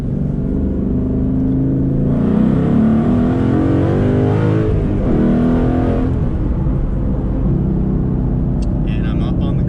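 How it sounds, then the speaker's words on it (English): Car engine hum and road noise in light traffic, with a steady drone and a rising whoosh as vehicles pass close by, heard from inside a moving car. "But we got a little bit of traffic."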